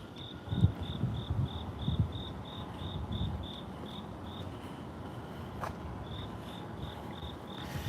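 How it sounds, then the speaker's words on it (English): Crickets chirping in steady, evenly spaced pulses, faint and continuous, with a brief pause before the rhythm resumes; low background rumble. "Now I can hear the crickets."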